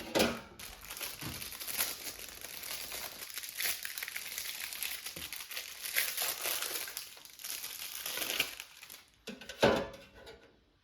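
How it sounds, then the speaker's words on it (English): Frozen pizza sticks are pulled from their plastic packaging with close, repeated crinkling and crackling of the wrapper and occasional louder rustles, over about ten seconds without talking. "remove the pizza sticks from their packaging"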